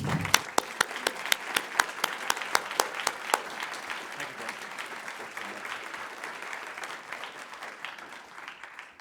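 An audience breaks into sustained applause to welcome General John Abizaid to the podium at a talk on moderate Islam, dense clapping with a few sharp nearby claps early on, gradually thinning out.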